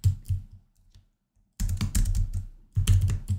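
Typing on a computer keyboard while entering a word into a Canva design, with two bursts of rapid, close key clicks separated by a brief pause and no talking.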